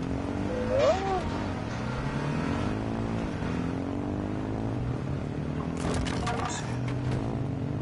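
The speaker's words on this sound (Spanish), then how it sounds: "Ya escucho varios vehículos atrás de él." Several vehicles driving behind a player in a battle royale game, a steady engine drone with shifting revs throughout, with voices talking over it.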